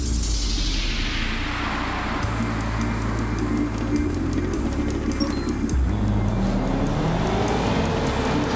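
A small yellow car races in the Blur video game, its engine revving loudly and continuously with gear shifts rising and dropping in pitch, plus whooshing road and tire noise throughout.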